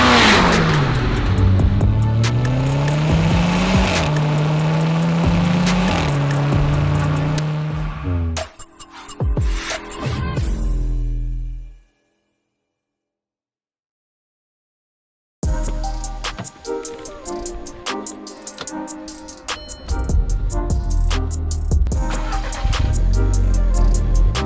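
A rebuilt, once-wrecked MK6 VW Golf R drives close by with loud engine revs rising and falling through gear changes. The sound cuts to a few seconds of silence, then the car resumes with busy road and engine noise.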